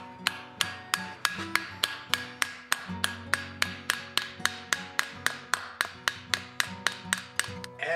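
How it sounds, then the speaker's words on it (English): Steady metallic hammer strikes, about three per second, set rivets fastening a hand-forged ladle bowl to its handle, each blow ringing sharply with a short decay, close and clear with no talk. "So now what I need to do is drill some holes into the ladle part and rivet that on."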